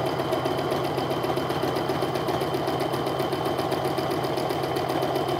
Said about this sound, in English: now I'm gonna go ahead and top stitch a quarter inch away from my folded edge